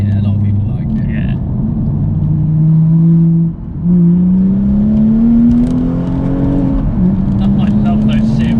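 A widebody BMW M235i with a hybrid turbo setup and manual gearbox pulls hard, its engine droning and rising in pitch through several gears with a brief dip at a shift, heard from inside the car with voices over it.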